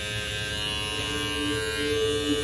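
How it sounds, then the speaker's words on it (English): An electric hair clipper buzzes steadily and close during a bald fade haircut, a constant bright whirring hum with slight load changes as it moves through hair. "I'm opening up the clipper all the way and going about an inch up all the way around"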